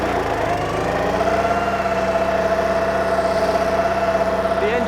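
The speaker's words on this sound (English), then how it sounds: "the mower will start and I'll start to drive forwards" A BCS 630 WS walk-behind flail mower runs steadily while driving forward, its engine giving a constant mid-pitched drone with a faint tonal whine, close and continuous, with no talk.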